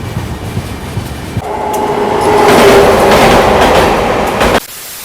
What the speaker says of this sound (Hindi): प्रयागराज एक्सप्रेस पैरेलल ओवरटेक मार रही थी 130 पे।